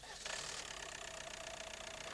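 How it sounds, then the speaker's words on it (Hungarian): A car engine, started for a fuel pressure test, runs at a steady idle with a soft even hum and a faint whine, moderately quiet and with no talking. "és indítsa be a motort."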